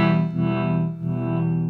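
A sustained electric guitar chord rings through a Chase Bliss modulation pedal, its tone pulsing and wavering as the modulation rate shifts, close and alone.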